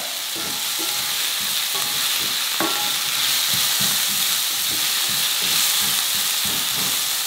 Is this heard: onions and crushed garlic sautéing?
yes